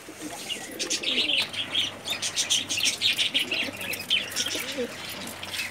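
A high-flying female pigeon at a loft beats its wings in rapid, rhythmic bursts throughout, with faint coos and chirps of other pigeons underneath.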